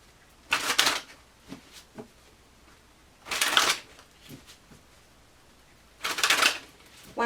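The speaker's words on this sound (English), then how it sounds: "One more shuffle." Tarot cards are shuffled in three separate quick riffling bursts, each about a second long, with near-silent pauses between them.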